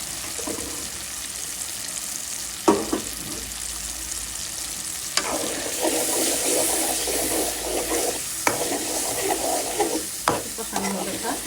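Tomato and spices sizzling and being stirred in a pan for a fish roe bhuna, a steady frying hiss broken by several sharp scrapes of the spoon against the pan, close up, with no talking.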